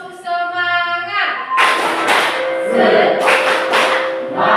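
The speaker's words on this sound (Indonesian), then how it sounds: "Sekali lagi. Tepuk semangat." A group repeats the Indonesian 'tepuk semangat' spirit clap at an education event, a voice calls the cue and then loud rhythmic bursts of group clapping follow close by.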